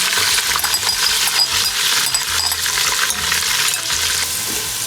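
Finely chopped onions frying in a pan over a medium flame, giving a loud, continuous, even sizzle with no pauses.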